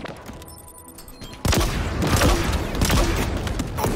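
A sudden loud explosion in Halo Infinite multiplayer during a Fiesta match in the Fracture: Tenrai event, bursting in after a quieter stretch and followed by a dense roar of gunfire and blasts.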